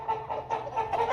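Chickens cluck in a coop on a rainy day, short soft repeated clucks in an uneven rhythm over a damp background hiss.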